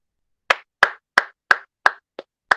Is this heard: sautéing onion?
no